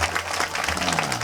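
A kirtan audience applauds in a short, dense burst of many hands clapping together, fairly loud and sustained, with a low voice murmuring faintly underneath.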